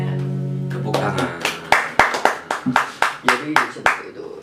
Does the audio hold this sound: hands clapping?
yes